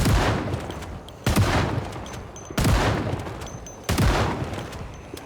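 Celebratory automatic gunfire in the video game Operation: Kill All The Things, four loud sustained bursts of rapid shots in a row, each cutting off sharply before the next, with no talking.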